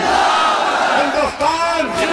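A large election rally crowd in Bihar roars a slogan back in unison, a loud, dense mass of voices filling the whole short moment.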